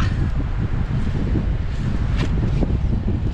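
Steady wind blowing across an outdoor microphone, a continuous low rumbling roar with gusty rustling, loud and close throughout.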